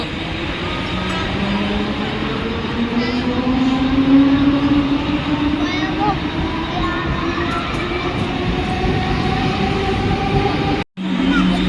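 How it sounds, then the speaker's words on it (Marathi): A Thane local train arriving at a station, a loud, steady rumble with squealing wheels and rising and falling tones, heard close for over ten seconds. "चला मग ट्रेन आलेली आहे"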